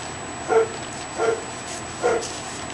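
Young puppies make three short, soft yips or whimpers at roughly even intervals, fairly close but quiet over a faint background hiss.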